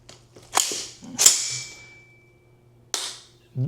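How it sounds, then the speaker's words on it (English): Dry-fire test of a SOLGW MK1 rifle trigger: a few sharp, close mechanical clicks and snaps with short quiet gaps between them, crisp and isolated, with no talk. "So let's test out this trigger real quick."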